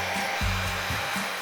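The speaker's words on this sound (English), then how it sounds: "use a blow dryer set to cool." A blow dryer set to cool blowing dust off a Christmas tree, a loud continuous whooshing roar with a slight hum, close and alone with no talking.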